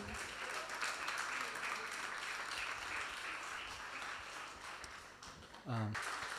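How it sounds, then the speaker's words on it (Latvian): An audience at a church gathering applauds steadily, dense clapping filling the room for several seconds before a voice begins to speak at the end. "Sagaidīsim ar aplausiem."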